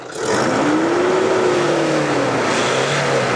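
A Toyota Fortuner 4x4 automatic's engine revs hard and steadily, its pitch climbing, dipping and rising again under a constant loud roar, with no voices over it.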